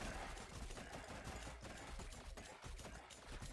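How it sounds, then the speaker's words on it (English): Rapid bursts of explosions in the video game Forager, dense overlapping pops and booms in a quick irregular barrage, fairly quiet overall. "So many explosions!"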